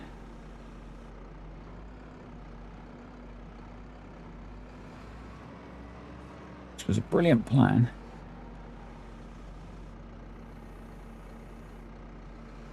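A tractor engine in Farming Simulator 25 drones steadily in a low, even hum throughout, while someone briefly talks over it midway.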